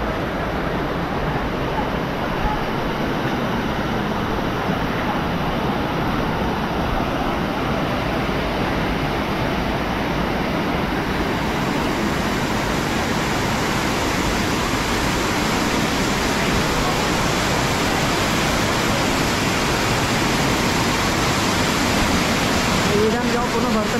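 Water pouring down from a full dam, a dense, unbroken rushing roar that stays loud and even throughout, close by with no other sounds standing out.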